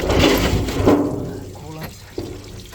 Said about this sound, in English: And let this thing flow out. Let something catch that